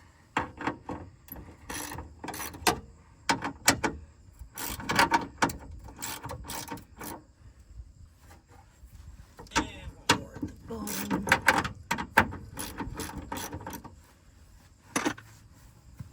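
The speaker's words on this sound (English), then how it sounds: "You just want to crack them all loose." Ratchet wrench cranking bolts loose on the door panel of a 1999–2006 GM GMT800 truck, in repeated bursts of quick clicking separated by short pauses, close and fairly loud with little talk.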